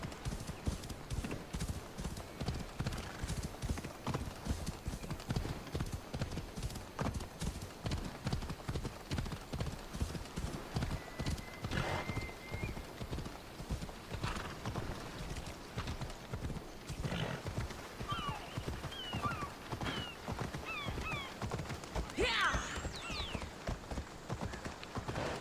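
A black horse gallops across a beach in Assassin's Creed Odyssey, its hooves pounding in a fast, steady rhythm throughout, with a brief whinny and faint game ambience in the background.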